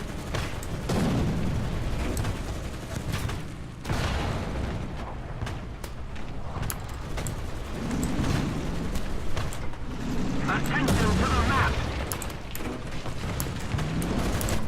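Tank cannon fire booms in War Thunder gameplay around an FV4202 tank, with heavy blasts and mechanical rumbling of engines and tracks throughout, loud and close.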